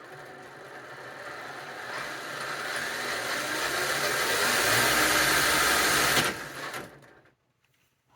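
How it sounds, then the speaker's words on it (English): Hobbywing Axe R3 motor driving the gear mesh of an RC crawler: a smooth electric whine with a faint gear hum that rises in speed, holds steady, then winds down and cuts to near silence. "I think that mesh sounds really good. That motor's quiet."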